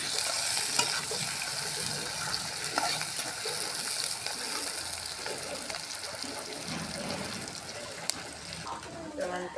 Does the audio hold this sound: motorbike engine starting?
no